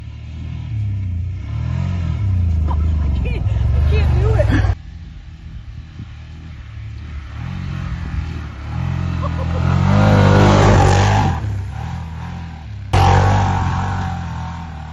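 A 2025 Can-Am Outlander XMR 850 ATV engine revs in bursts, a rumbling rise and fall of throttle with abrupt cut-offs, close by and loud, with brief speech in between.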